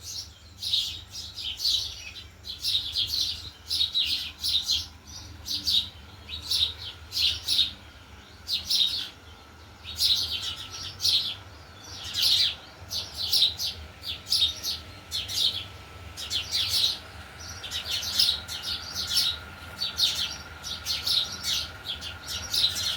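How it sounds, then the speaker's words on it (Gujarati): Sparrows chirp busily in a village lane, a steady stream of near, bright, repeated tweets in quick bursts over a faint low background hum. "મસ્ત ચકલા બોલી રહ્યા છે."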